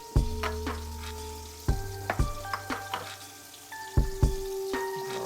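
Meat sears in a pan with a soft sizzle under a series of sharp clanks and ringing metallic knocks, as though utensils or cookware strike repeatedly at close range.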